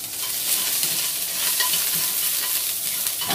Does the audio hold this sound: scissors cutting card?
no